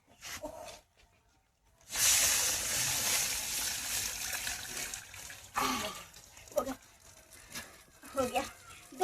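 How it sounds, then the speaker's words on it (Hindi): Water from a bucket pours into a cooking pot of vegetables in a steady, loud splashing rush that lasts several seconds. Someone talks before and after the pour. "मैं डाल ही देती हूँ 2 बाल्टी पानी।"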